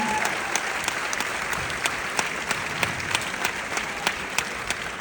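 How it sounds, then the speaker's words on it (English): A premiere crowd claps loudly and continuously for Blake Lively and Isabela Ferrer, dense applause filling the space with sharp individual claps standing out near the front. "A big round of applause for Blake, Lively and Isabela Ferrer."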